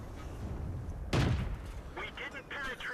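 A tank gun fires in the video game World of Tanks: one sharp, loud blast about a third of the way in, with quieter game noise and some faint voices around it.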